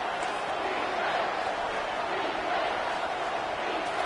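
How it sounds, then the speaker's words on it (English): A stadium crowd roars in a College Football 25 game between San Jose State and Utah State on a big third down. The roar is a steady, dense wash of noise that holds evenly at moderate loudness. "if you didn't know this was a big play, the crowd is telling you"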